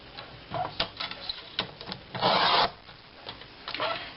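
Paper cardstock is scored on a scoring board for a recipe card box: soft rubbing and tapping, then a sustained scraping stroke in the middle, followed by lighter handling sounds, close and fairly quiet.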